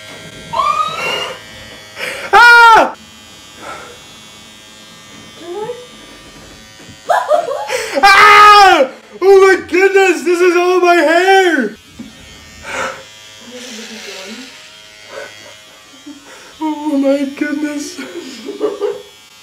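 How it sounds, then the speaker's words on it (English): Electric clippers buzzing intermittently while shaving hair off a head, the droning buzz heard in bursts close up between excited talk and laughter. "My plan sort of is just to shave through and then I have to continue."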